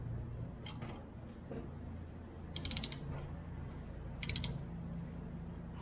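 A wrench torquing accessory bolts on an LS engine during an LS swap, giving a few short ratcheting clicks and faint creaks up close in a quiet garage.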